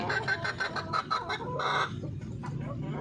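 Darag native chickens clucking close by in a coop, a run of short repeated clucks and a longer call, with no one talking.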